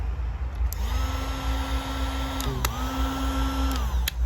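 A Tanzu cordless heat gun blower on its low setting whirs steadily with a high whine that dips and rises briefly midway, over a low constant hum.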